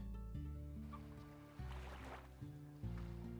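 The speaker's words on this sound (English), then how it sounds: "I will need to bring over some chickens for this guy" Chickens cluck faintly in the video game Slime Rancher, nearly buried under steady, droning game music.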